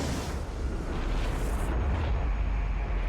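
Explosion detonating in Dragon Age: Origins, a sustained roaring blast with deep rumble filling the short stretch, loud and close with no talking.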